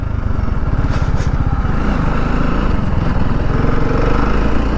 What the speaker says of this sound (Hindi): अलग ही भाग रही मेरी बाइक।